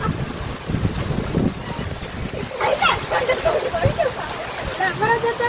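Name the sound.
heavy rain pouring down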